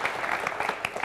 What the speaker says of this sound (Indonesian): Boleh tepuk tangan minta